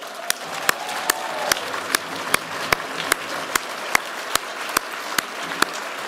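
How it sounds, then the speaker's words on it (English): Steady applause from an audience at a Department of the Interior farewell address, dense clapping wash with regular sharp claps standing out, moderately loud and continuous throughout. "can we give everybody a round of applause?"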